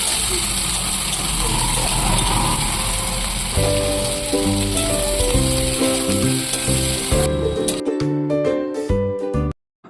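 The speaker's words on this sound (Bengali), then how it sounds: "এবার পেঁয়াজ আলু আর একটু ভালো করে ভেজে নেবো" Potatoes, chopped onion and green chilli fry in a pan with a loud, steady sizzle; partway through, a melodic music track rises over it and continues until the sound cuts off at the end.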